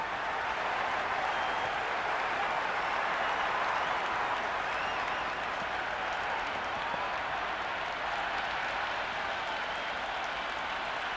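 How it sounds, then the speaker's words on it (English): Stadium crowd at a Big Bash League cricket match in a video game applauds and cheers in a continuous, dense wash of clapping that holds steady for about eleven seconds, with no pauses. "the crowd have joined the party. It's pretty noisy at the ground."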